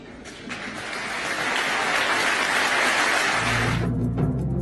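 Applause from an audience at a presidential speech swells steadily from a scattered start to a dense, sustained clapping, then thins near the end as a low murmur comes in.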